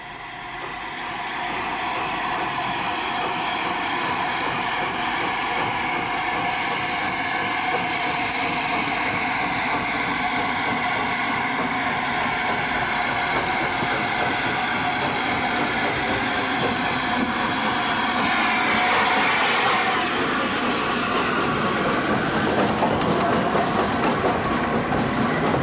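A Pacific steam locomotive hauling a passenger train on the Swanage Railway, heard as a continuous rolling rumble with rhythmic clickety-clack of carriage wheels on the rails, steady and close, with a slight rise in intensity toward the end.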